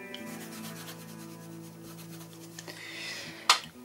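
Nail being cleaned and scraped during an at-home French manicure, a soft steady rubbing and sanding texture at close range, ending in one sharp brief click.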